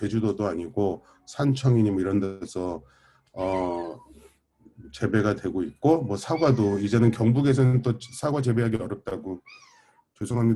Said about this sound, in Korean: 우리 고양이가 막 울어대네요.